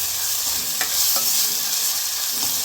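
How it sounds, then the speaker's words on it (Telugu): Onions fry in hot oil with a steady, bright sizzling hiss, broken by a couple of faint stirring scrapes, while mutton gongura curry is being prepared. "ఆనియన్స్ కొంచెం రెడ్ కలర్ వచ్చేంత వరకు వేపాలి"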